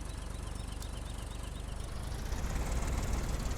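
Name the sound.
farm tractor engine idling in a farming video game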